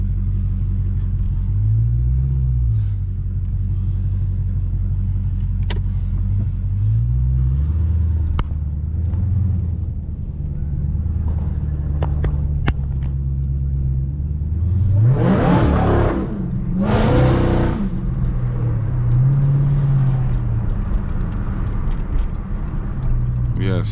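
A Dodge Hellcat rumbles steadily from inside the car while driving to a gas station, with a low engine drone throughout and two surging revs midway.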